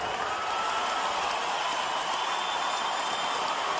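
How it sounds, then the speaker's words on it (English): A basketball arena crowd gives Kobe Bryant a sustained ovation as he leaves the game injured, steady broad applause and cheering that holds at an even level throughout. "The ovation."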